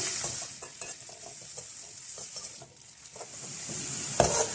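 Chopped onions fry in hot oil in a pan until light golden, a steady close sizzle with scattered scraping stir strokes and light clinks of a spoon against the pot.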